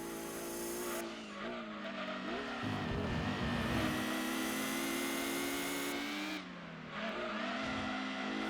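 Tommy Kaira race car in Gran Turismo 2 simulation mode, its engine revving loudly and shifting pitch through gear changes, with tires squealing and skidding through corners.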